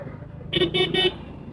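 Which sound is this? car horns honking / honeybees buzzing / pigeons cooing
car horns honking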